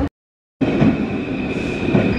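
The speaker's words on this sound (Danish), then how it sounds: "Der er virkelig mange inde i den her metro." Paris metro train carrying a crowded carriage, a steady rumbling ride with continuous rail noise and a faint high whine, beginning after a brief silence.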